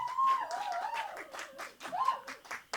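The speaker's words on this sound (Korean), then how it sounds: "뜨거운 박수로 맞으시기 바랍니다." A literary talk-concert audience gives scattered, uneven clapping to welcome the poet Oh Min-seok, the claps sharp and spaced under a sustained musical tone, with no voices over it.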